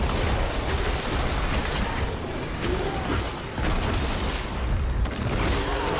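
Rock exploding inside a Diablo 4 nightmare dungeon, heavy booming blasts and crashing debris layered over dense, continuous combat noise.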